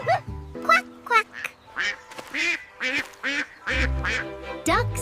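A cartoon duck quacking in a children's farm animal sounds show, a series of bright, nasal quacks in quick bursts, mixed with a voice repeating the call in imitation.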